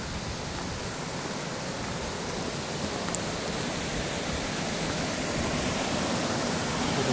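Waterfall on the Ring of Kerry in Ireland roars close by, a steady, dense rush of falling water that stays even and loud throughout with no voices.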